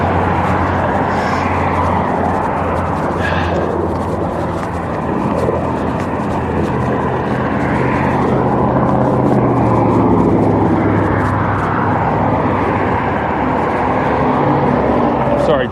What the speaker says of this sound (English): The wind was high.